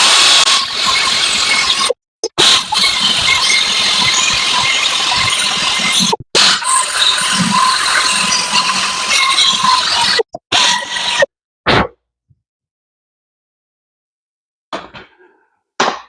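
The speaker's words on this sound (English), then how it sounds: "So use a die grinder to clean the corrosion out of here." A die grinder scrubs corrosion from the aluminum rear wheel hub flange of a 2019 Subaru Forester, a loud, close, steady high-pitched whir broken by a few short pauses before cutting off into near silence.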